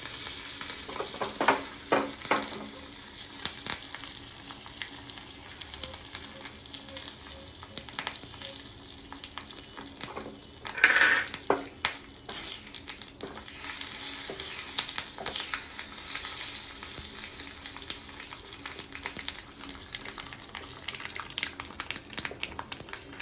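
A tempering of curry leaves and two dried red chillies sizzles in oil with mustard seeds and asafoetida for rasam. A steady, fairly soft frying hiss carries scattered sharp crackles and pops throughout.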